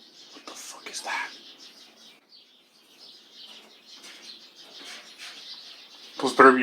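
Small birds chirp in scattered, short calls near a pomegranate tree, light and intermittent, with a louder burst of chatter at the end.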